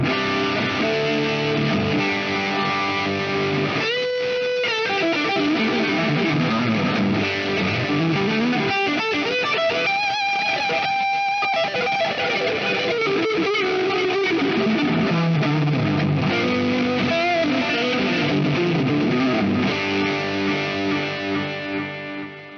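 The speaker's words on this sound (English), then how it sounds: "Just for kicks, I'm going to goose the power amp, and you can hear it now starting to hiss because it's a tube amp being pushed." A pushed tube power amp in a Plethora X5 guitar rig, 4-cable setup, grinds with thick distortion and hiss as sustained, smeared guitar notes and chords ring out loudly, gradually turning mushy before fading at the end.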